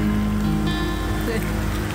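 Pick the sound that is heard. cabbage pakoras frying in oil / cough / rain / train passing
rain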